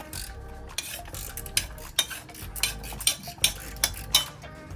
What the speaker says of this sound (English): So you gotta undo your locking nut.